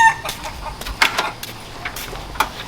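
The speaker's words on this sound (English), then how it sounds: "First thing we're gonna start with is the chickens." Backyard chickens cluck in short, scattered bursts, fairly close and moderately loud over a quiet outdoor background with no talk.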